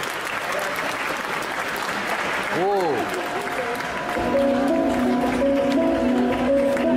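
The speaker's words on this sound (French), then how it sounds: "un tonnerre d'applaudissements pour Angel Dark Snow." Applause from the audience at a costume parade during a cosplay convention, sustained crowd clapping throughout, with a brief tonal whoosh midway and a music-like hum underneath in the second half.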